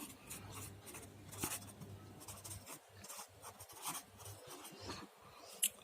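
Numbers being written on a board, a run of close scratchy strokes in short bursts with brief pauses between, ending with a sharp tap.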